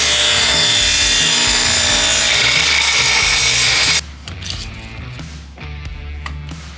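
A wooden board, three inches wide, is cut down to two feet long with loud continuous power-tool sawing for about four seconds, then the cut stops and quieter rubbing and handling sounds of the wood follow.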